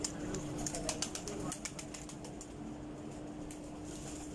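Faisalabadi John Sire French pigeons at a loft, soft cooing and fluttering wing claps near the start, then a quieter stretch of low background noise.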